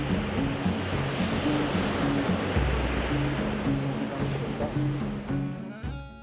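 Small waves lapping in a clear-water bay at Santa Marta, near the mouth of the Manzanares River, heard as a continuous rushing wash beneath steady background music.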